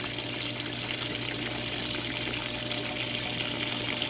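A washing machine fills with water, giving a steady, continuous rush of water flowing in with a faint low hum underneath and no break throughout.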